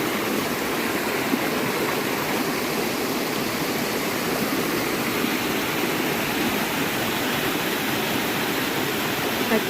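Steady, full roar of a waterfall and rushing stream in Mineral del Monte, Hidalgo, continuous and close with no voices, like constant white noise.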